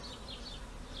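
Honeybees buzz steadily at an open hive during a colony inspection a month after an Easter swarm, a continuous close hum with no voices.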